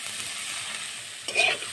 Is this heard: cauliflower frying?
yes